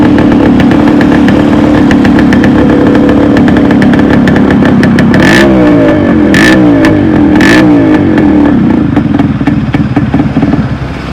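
A Yamaha RX 135 motorcycle engine idles loudly up close with a rapid, rattling putter, punctuated by a few sharp revs in the middle.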